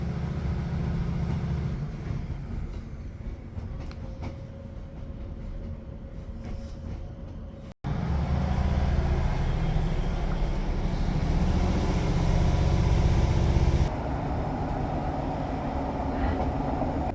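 A Northern local train pulling out of Saltburn station on the Tees Valley Line, a low rumbling interior drone with a whine and brake hiss early on, then a sudden break and a louder steady rolling roar as it gathers speed.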